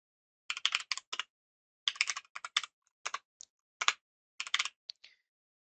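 A computer keyboard clatters in bursts of quick keystrokes as code is typed, close and clear, with brief silent gaps between runs and no speech.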